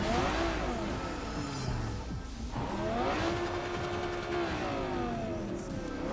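A mid-engine car in the Cyberpunk video game drives along with a continuous engine whir that rises and falls in pitch as it accelerates, fairly loud and steady throughout.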